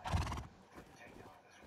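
A short horse whinny in the console video game Rust at the start, then quieter rustling and faint background noise.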